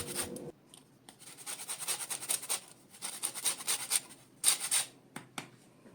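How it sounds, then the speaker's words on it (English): Lemons being zested on a grater, giving a series of dry, rhythmic rasping scrapes close up, irregular strokes separated by brief pauses, with no voice over them. "When you're zesting your lemons, be very careful not to grate into the white part that's underneath the yellow part of the zest."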